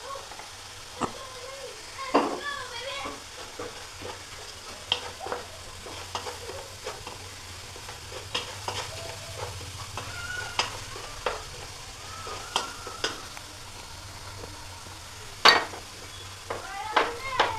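Spice powders are stirred into sizzling tomatoes in a pan for a prawn roast: a soft continuous sizzle runs under repeated scraping and clinking strokes of a spoon against the pan, fairly close and at a moderate level.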